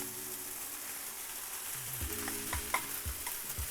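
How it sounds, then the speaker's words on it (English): Scrambled eggs fry in a small well of hot oil during a stir-fry of Singapore curry noodles with chicken, giving a soft steady sizzle that later gives way to several dull utensil taps and stirring scrapes near the pan. "a little bit of oil in the middle. I've made a well right here. Now I'm adding my scrambled eggs."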